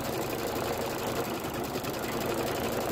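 A computerized embroidery machine stitches a trapunto pineapple design in the hoop, giving a steady, fast mechanical whirring and needle clatter throughout, moderately quiet and uninterrupted.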